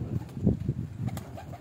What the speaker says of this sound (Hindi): बता रहा था सनी कि ये शाम शाम की परवाजें दी हैं इस कबूतर ने।